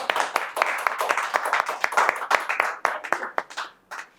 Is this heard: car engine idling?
no